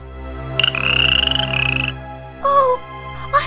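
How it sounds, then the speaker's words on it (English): A frog croaks in a children's fairy tale, with a drawn-out, buzzing croak followed by two shorter croaks after a pause, close and clear over a low background hum. "found herself staring at an ugly green frog"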